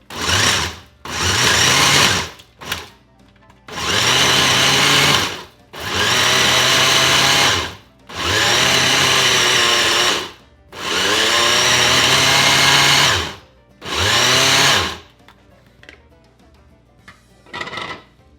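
An electric meat grinder works through duck meat for burgers, its motor whirring loudly and close in six long bursts of a second or two each, separated by short pauses, with no talk.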